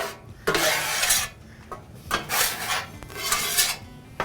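Metal spatula scraping and spreading gumbo roux across a Blackstone griddle, in four rasping strokes of roughly half a second to a second each, close and fairly loud.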